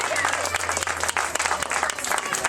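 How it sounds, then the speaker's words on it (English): A live audience at a magic show breaks into dense, loud applause, with a voice faintly audible underneath. "Please, everybody, give Judy a nice round of applause for helping me out."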